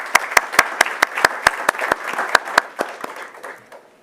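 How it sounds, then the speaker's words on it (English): Audience applause at a school board meeting for staff honored for 25 years of service: loud, close, rhythmic clapping with crisp individual claps that thins and fades out toward the end. "Please give them a round of applause."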